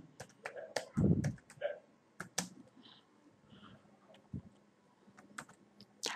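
Fingers type on a computer keyboard while a sign-up form is filled in, giving close, sparse key clicks in short irregular bursts, with one heavier thump and quiet gaps between strokes.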